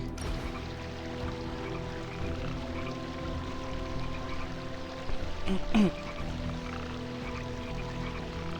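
A babbling brook in the game Midnight Suns flows steadily in the background, with a soft continuous trickle and a brief burst of splashing near the end.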